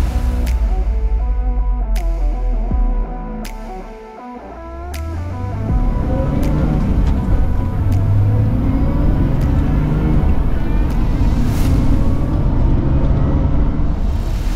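An Aston Martin DB7 engine rumbles close and steady, with a brief dip in level before the low drone returns and holds, punctuated by a few sharp clicks.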